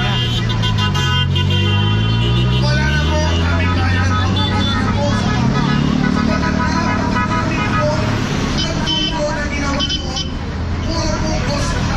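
Car horns honk repeatedly amid loud, busy traffic noise in the Philippines, with bus and vehicle sounds filling the background and voices mixed in.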